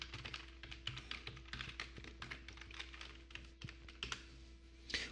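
Quiet typing on a computer keyboard while entering a Google search, a run of rapid, irregular key taps close by with a few louder strokes and no voices.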